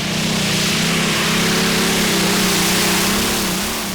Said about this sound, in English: the big V12 roaring down the track